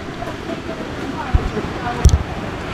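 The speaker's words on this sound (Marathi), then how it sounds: "इकडे आवाज येऊन समज किती जोरदार धबधबा आहे" Lalthane Waterfall roars as a steady, hissing wash of water close by behind trees along a rough off-road track, with a voice talking and a couple of thumps over it.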